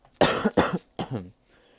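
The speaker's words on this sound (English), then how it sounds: "I'm gonna try to not cough a lot" Three harsh coughs in quick succession, close and loud, the last one trailing off into a rougher, throaty tail.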